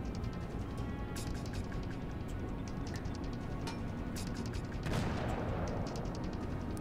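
Naval guns firing in World of Warships, a steady rumbling barrage of booming shots with sharp reports scattered throughout and a heavier blast near the end.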